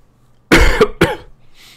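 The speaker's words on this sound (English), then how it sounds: "I always forget to mute the mic when I cough" A person coughs twice into a microphone during a Minecraft play session: two sharp, loud close bursts about half a second apart, then a faint breathy trail.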